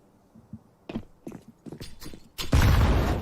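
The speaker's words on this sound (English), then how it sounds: "they blow the doors open" Doors blasted open on the Nuke map in Counter-Strike, preceded by several scattered knocks and thuds, then a loud, dense explosive burst that roars on steadily to the end.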